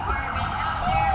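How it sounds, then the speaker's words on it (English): Emergency vehicle sirens sound at a St Patrick's Day parade in West Orange, a steady wailing tone holding under crowd noise and talking voices, moderately loud throughout. "they've got these sirens going off"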